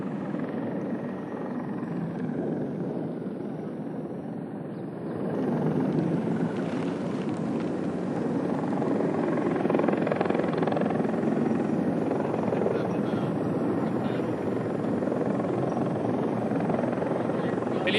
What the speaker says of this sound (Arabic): هذا النوع من الطائرات متميز في الطيران المنخفض جدا